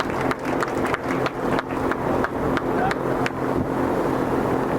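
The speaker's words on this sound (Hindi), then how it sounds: "जिला तालियां हो जाए।" Audience applause fills the hall at an award ceremony held by an agricultural career institute in Nagaur: steady dense clapping from a crowd, with faint voices underneath.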